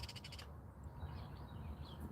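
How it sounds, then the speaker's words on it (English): Birds call from overhead, a quick run of repeated sharp calls at the start followed by scattered fainter chirps over a steady low background rumble. "birds up there talking to me."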